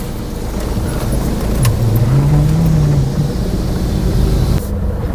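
A car travels toward a farm house near Bangalore, its engine and tyre noise a steady close drone with a brief rising whine in the middle before the sound drops away at the end.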